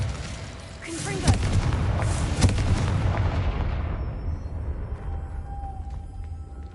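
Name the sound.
Confringo explosive spell blasts in video game Hogwarts Legacy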